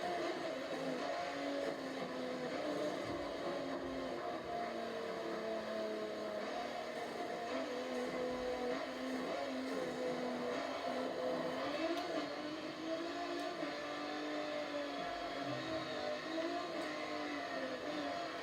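Honda Trophy race car number 15 driving in the Forza Motorsport 7 video game, a steady mid-pitched engine whine rising and falling with gear changes, moderately quiet and continuous.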